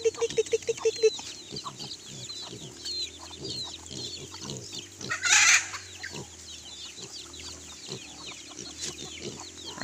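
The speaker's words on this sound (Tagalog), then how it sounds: "Marami silang manok. Ayan. So native yung kanilang mga manok." Native chickens on a rural farm in the Philippines cluck and cackle near and far, with a brief rooster-like squawk midway, over soft ambient farmyard noise.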